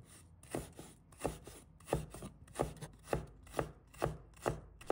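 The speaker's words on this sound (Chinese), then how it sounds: "一块生姜，把它切成丝。" A knife chops a piece of fresh ginger into shreds on a cutting board, about a dozen crisp, evenly spaced thuds in a steady rhythm, close and clear with no talking.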